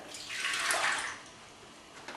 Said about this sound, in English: We're going to pour in our water.